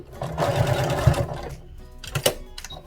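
A sewing machine stitches along the side of a hoodie's zipper tape in a short, loud burst, then stops, followed by a couple of brief clicks and mechanical clatter.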